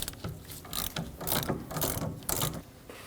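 A ratchet clicks in short repeated bursts while loosening the 15mm caliper bracket bolts on a Ford Transit Connect's rear brake, close and crisp with brief pauses between strokes.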